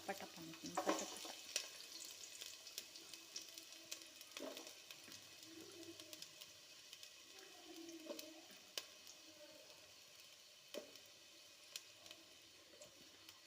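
Onions fry in hot oil with a faint, continuous crackle and sizzle, dotted with brief pops and soft stirring sounds at close range.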